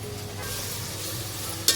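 Onion fries in hot oil in a pot for tempering, a steady close hiss and crackle that runs throughout, ending with one brief clink of a utensil.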